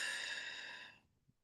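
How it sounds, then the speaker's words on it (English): One long, breathy exhalation, steady and soft, fading out after about a second, close to the ear. "as you breathe out"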